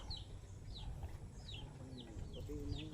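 Chickens cluck softly in quick, scattered calls, somewhat distant, over a low background rumble.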